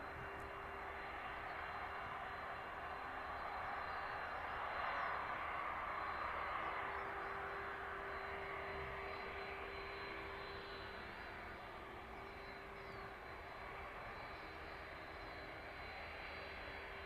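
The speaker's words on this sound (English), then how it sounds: "The 767 arriving in from Kennedy this evening." A Boeing 767 jet airliner arrives at East Midlands Airport, its engines producing a steady, broad roar with a faint whine. The noise holds evenly and fairly loud for the whole stretch, with no voices over it.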